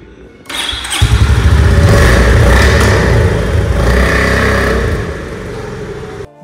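A motorcycle, either a Triumph Scrambler or a Honda CB350, fires up after a short crank and settles into a loud, close, steady idle with a throaty rumble and small revs, then cuts off near the end.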